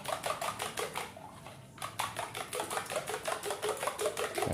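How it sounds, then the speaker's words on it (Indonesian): A whisk beats an egg mixture for pempek telur in a bowl, a close, quick rhythmic clatter of repeated strokes with a short pause partway through, no talk. "Lalu kita kocok"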